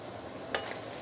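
Singapore hokkien mee being stirred in a hot wok, a steady sizzle of frying noodles with a sharper scrape of the spatula about halfway through.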